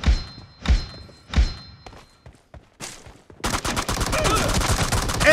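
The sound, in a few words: gunfire in PUBG Mobile video game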